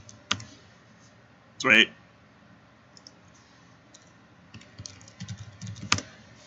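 Mouse clicks and keyboard taps while naming a place in the game Daggerfall, scattered sharp clicks and short typing bursts with a brief spoken word in the middle.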